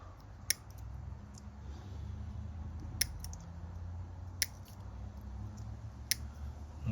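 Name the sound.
cutting plastic model kit parts off the sprue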